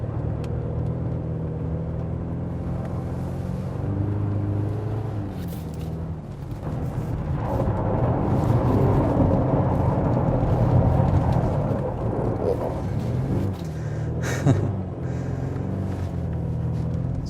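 A 2023 Mercedes GLC 300, camouflaged, drives on ice with its engine droning steadily and close, swelling into a louder rumbling roar midway before settling back to a steady hum.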